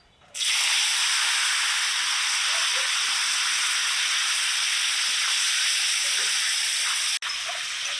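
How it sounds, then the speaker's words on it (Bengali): Potatoes sizzle in hot oil after paneer has been fried in it, a loud, steady broadband hiss that starts abruptly and holds nearly unchanged, with one brief dip near the end. "এই তেলে এবার আলু কয়েকগুলো ভেজে নেব"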